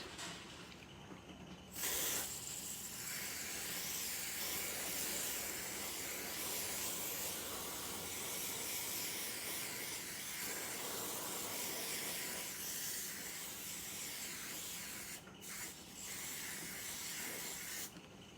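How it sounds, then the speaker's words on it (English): Long continuous hiss of an aerosol spray varnish applied to wood, steady and close, with a couple of brief pauses where the nozzle is released and pressed again. "So let me use the spray varnish itself because it is easy for me to apply now."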